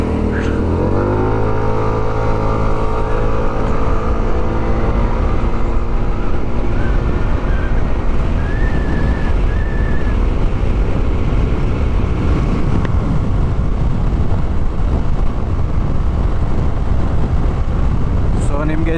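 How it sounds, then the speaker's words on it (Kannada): A Hero Xoom 160 scooter held at full throttle on a highway, its engine droning loud and steady with rising pitch, buried in heavy wind rush for the whole stretch. "So let's go full throttle."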